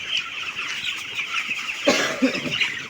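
Several backyard chickens, including an unwell hen with a swollen head, cluck close by, with short squawky bursts over a steady murmur of birds.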